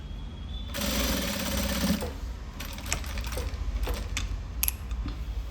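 A sewing machine runs a straight stitch along a blouse seam in one steady burst of about a second, then stops. Softer handling clicks and rustles follow, with no talking.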